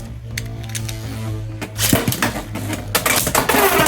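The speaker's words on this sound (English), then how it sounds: "Steel Samurai versus Talon Ptera. 3, 2, 1, let it rip." Beyblade X tops Steel Samurai and Talon Ptera clash in a stadium, with rapid metallic clicks and clattering hits that grow busier and louder partway through, over a steady low whir.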